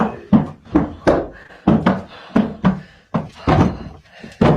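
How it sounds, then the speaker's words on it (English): Loud, irregular banging on a door inside a house, a rapid series of heavy wooden thuds and slams in uneven bursts, close by. "They probably just banging on the door or behind them"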